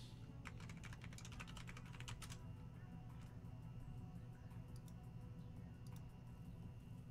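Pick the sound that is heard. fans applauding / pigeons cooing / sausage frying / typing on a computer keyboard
typing on a computer keyboard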